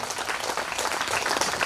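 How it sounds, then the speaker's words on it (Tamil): An audience at a Pongal gospel camp meeting claps hands in sustained, dense applause, a loud steady wash of many palms with no voices over it. "ஒரு கைதட்டுங்க பார்க்கலாம்."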